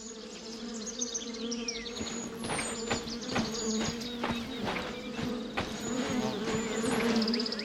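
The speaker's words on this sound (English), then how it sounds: "I hear the bees. I don't see them. They must be off the path somewhere." A swarm of bees in a video game drones steadily, with individual buzzes rising and falling as insects pass close by, amid faint chirps in the background.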